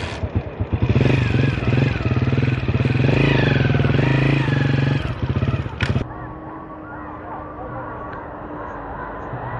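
Motorcycle ride in a village setting, a loud, close buzzing engine with rising and falling revs that drops abruptly to a quieter running hum, with people talking over it.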